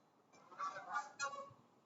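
Geese honk in the background with a few faint, distant calls in quick succession, thin and soft against an otherwise quiet setting.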